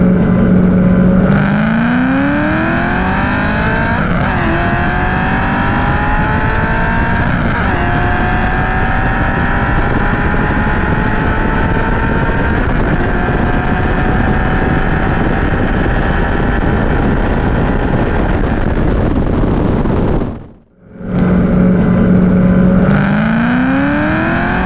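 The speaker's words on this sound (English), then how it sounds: "My Mustang pulls hard early on, but the bullet starts reeling me in once we get into triple digits." A sixth-generation Ford Mustang Bullitt with a Coyote V8 and six-speed manual accelerates hard, its engine note climbing steadily through the gears with shift breaks, loud and sustained with a brief drop near the end before pulling again.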